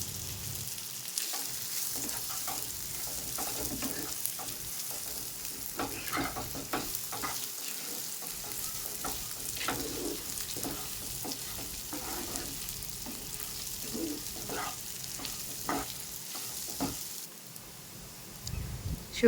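Drained rice and lentils sizzle and fry in a pan with turmeric while being stirred, giving a steady close crackle broken by scraping spoon strokes throughout.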